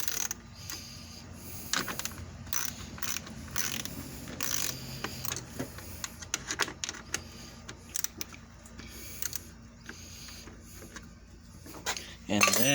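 A 10 mm ratchet works bolts loose on a fan assembly, giving quiet, rapid clicking bursts with scattered metallic clinks and handling noises, fairly close and low in level, with no voice on top.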